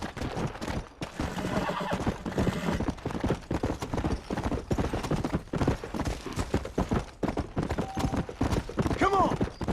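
Horses gallop with steady clip-clop hooves and a whinny in the Western game Red Dead Redemption, loud and close, mixed under shouting voices and game effects.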